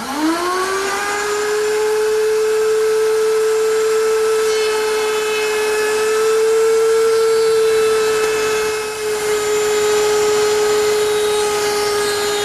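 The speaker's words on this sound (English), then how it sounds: "I've set up my router table with a 1/4 inch rounding over bit and a couple feather boards to hold the stock in place" Router table with a quarter-inch round-over bit and feather boards rounding the corners of a three-quarter-inch-square wood strip: a loud steady high whine rises to speed, then holds with a slight dip as the stock feeds through.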